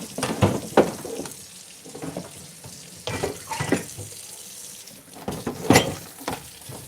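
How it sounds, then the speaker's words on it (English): Cutting boards are washed under a running kitchen tap: water splashes and patters, and the boards knock and clatter in several uneven bursts, fairly close and moderately loud. "So I need to clean up my cutting boards."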